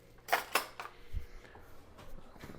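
Spoon scooping ground meat, two quick metallic clinks near the start followed by softer, faint scraping and shuffling sounds.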